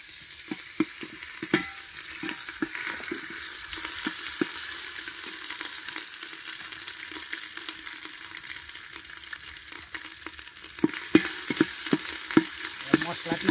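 Biryani masala being stirred in a pot: repeated scraping strokes of a spoon over a soft, steady sizzle, close and rhythmic, growing a little busier toward the end, with no speech.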